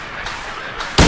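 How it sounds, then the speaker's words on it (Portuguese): Gunshots fired at a creature in Silent Hill 2, heavy broadband blasts against a dense noisy game backdrop, with a loud final shot at the end. "Nos tiros, por exemplo, que o James está dando agora nessa criatura, ou na própria forma que ela tem."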